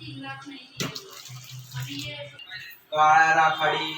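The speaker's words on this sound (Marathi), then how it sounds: "हे बट्टेचं जे पाणी आहे हे आपण ह्या डाळीमध्ये ॲड करून घेऊया" Water sloshes and pours into a pot of dal, with soft clinks and splashing, growing louder toward the end.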